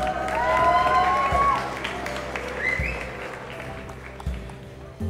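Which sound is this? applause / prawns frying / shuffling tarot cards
applause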